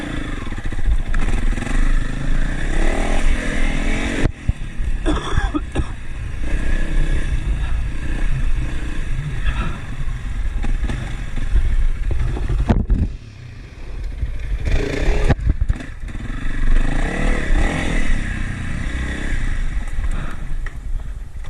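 A Honda CRF300L motorcycle rides a dirt trail with a loud, steady engine drone up close. Brief gear-change dips and throttle swells break the drone, and scraping and clattering from the rough ground run underneath.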